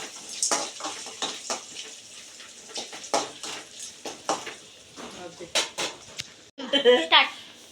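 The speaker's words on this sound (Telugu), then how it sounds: "అవన్నీ బ్రౌన్ కలర్ వచ్చే వరకు ఇలా ఫ్రై చేసుకోవాలి" Ingredients frying in a pan until browned, with a steady crackle and repeated stirring scrapes close by; a brief voice is heard near the end.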